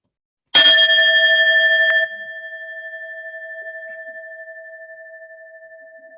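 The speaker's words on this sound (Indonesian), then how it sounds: "Kita dengarkan lagi bunyi genta ya." A meditation bell is struck once during a group practice session, a bright metallic strike that settles into a clear, sustained ringing tone and slowly fades over several seconds with no voices.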